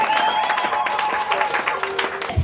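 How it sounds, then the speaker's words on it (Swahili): A church congregation clapping at an anniversary celebration, a busy crowd of handclaps mixed with sustained tones and voices, ending in a louder burst. "Shangilia Bwana na makofi."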